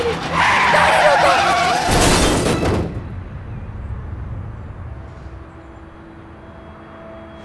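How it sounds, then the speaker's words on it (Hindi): A car skids to a sudden stop in a drama scene: a loud tyre screech lasts about three seconds, then cuts off and leaves a quiet low rumble. "पेलिन, ये अचानक से गाड़ी के सामने आ गई।"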